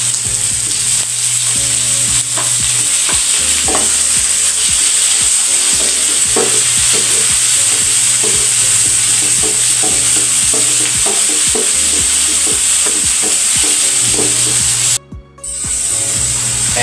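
Onion, ginger and tomatoes sautéing in a pan for ginisang ampalaya, a loud, steady close sizzle and hiss with repeated utensil stirring and scraping throughout, with one brief dropout near the end.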